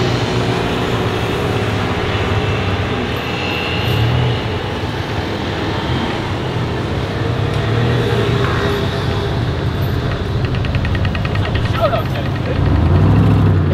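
A McLaren sports car engine on an Amsterdam street rumbles loudly and continuously with deep low drone and swelling revs, mixed with city traffic noise and voices nearby.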